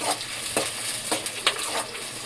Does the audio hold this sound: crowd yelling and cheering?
no